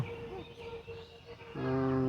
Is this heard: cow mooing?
yes